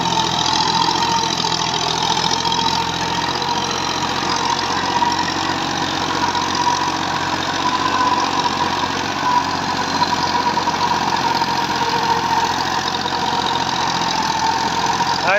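A tractor with a rotavator cutter idles steadily in wet, waterlogged field conditions, giving off a little smoke; a continuous mid-pitched engine drone with faint knocking runs unbroken throughout, close and fairly loud, with no voices.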